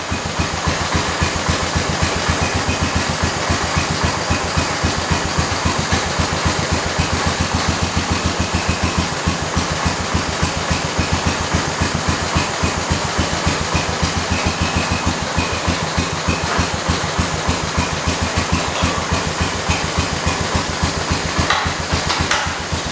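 A Kohler engine on a 1968 112 garden tractor idles close by with a steady, rapid mechanical chugging that holds evenly throughout, with no talk over it.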